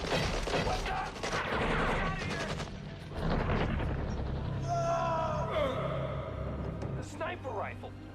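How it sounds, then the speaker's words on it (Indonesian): An exchange of gunfire in a war film about a sniper, with dense bursts of shots and blasts in two loud waves, followed by strained vocal sounds and tonal effects. "Miller pun segera mengambil senapannya dan terjadilah adu tembak"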